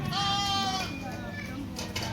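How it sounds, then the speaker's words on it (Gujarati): A herd of village goats gathered for milking bleats repeatedly, several wavering calls overlapping up close amid people talking. "બધા બકરા આવી ગયા છે"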